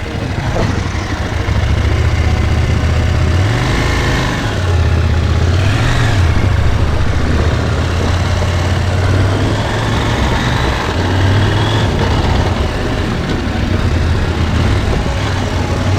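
A cheap KTM Duke motorcycle engine running in gear, a loud, steady low drone with brief revs rising and falling, close by throughout.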